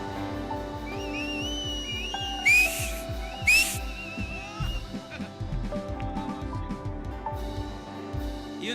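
A church congregation whistles, with sharp rising shrill whistles standing out above a dense, busy crowd din, some close and loud.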